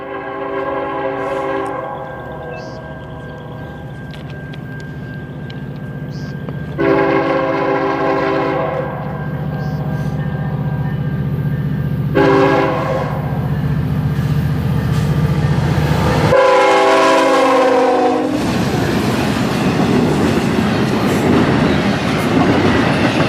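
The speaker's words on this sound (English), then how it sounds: "SD70 ACC numbered 1800 leading NS 276 out of Chicago's Landers Yard" Norfolk Southern freight NS 276, led by SD70ACC locomotive 1800, rolls out of Landers Yard at Pine Junction in Gary, Indiana, sounding several long horn blasts over a steady rumbling engine drone and wheel noise.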